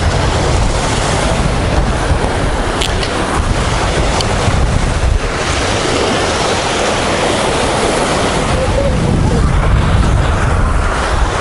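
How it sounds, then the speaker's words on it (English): Strong wind buffets the microphone on Tsilivi Beach, Zakynthos, with continuous roaring surf waves rolling in underneath, loud and unbroken throughout. "It's a little windy today, so I'm going to try to shield my mic."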